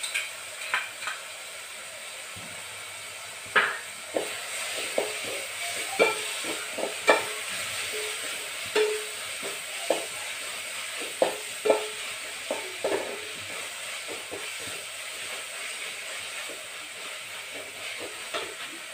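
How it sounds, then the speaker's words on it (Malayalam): Ginger garlic paste frying in a pan for pepper rasam makes a continuous hiss, with scattered stirring scrapes and clicks throughout. "അതിലേക്ക് ഇഞ്ചി വെളുത്തുള്ളി പേസ്റ്റ് ഇട്ട് കൊടുക്കാം."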